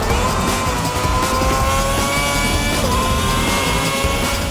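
Race cars roaring around the track in the F1 2010 video game, a loud continuous high engine whine with layered overlapping engines and tire squeal, dense and unbroken throughout.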